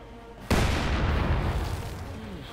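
Heavy mortar shell impact in the strategy game Company of Heroes 2: one sudden loud boom followed by a long rumbling roar that slowly fades.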